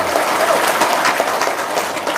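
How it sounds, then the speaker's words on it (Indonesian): A short burst of audience clapping at a seminar on getting rich quickly, dense and fairly loud throughout with no clear speech over it. "Tepuk tangan dong."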